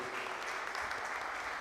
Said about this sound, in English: please put your hands together for yourself for being here today